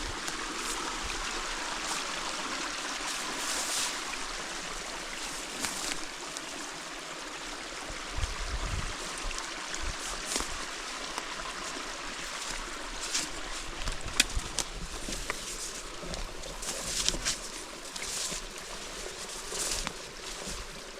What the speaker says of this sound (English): It's flowing out of the gulch.